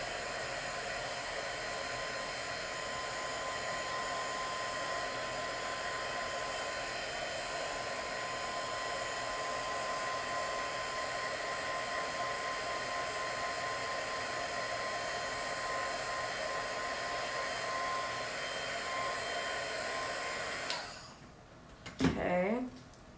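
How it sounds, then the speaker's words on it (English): Heat gun drying paint on jewelry, a steady continuous blowing roar for about twenty seconds that cuts off near the end, followed by brief handling noise. "I'm gonna do a heat gun real quick here."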